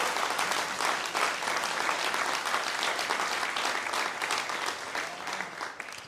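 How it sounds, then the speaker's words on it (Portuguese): A church congregation at a conference claps steadily and strongly for about six seconds, a dense even applause that eases slightly toward the end, with no talk over it. "Aplauda"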